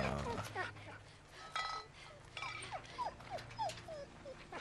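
A dog in The Walking Dead: Season 2 video game whimpers in a run of short, falling whines, close and fairly loud, over a low rumbling game background.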